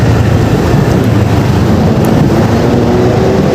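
Dense, loud road traffic roar near the Villamor off-ramp by NAIA Terminal 3 beside a tall blue polycarbonate sound barrier, a continuous rumbling wash of passing vehicles with faint engine tones and no talk.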